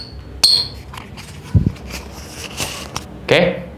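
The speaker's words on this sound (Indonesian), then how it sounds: "oke, sepatu ini bunyi ya, King." A futsal shoe handled up close, giving sharp squeaks and scuffs, a couple of thumps and rubbing creaks at irregular moments against a quiet room.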